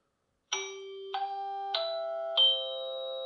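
Amcrest video doorbell playing its classic chime at loud volume: four bright bell tones struck in steady succession, each ringing on and overlapping into a sustained close chord, with no voices.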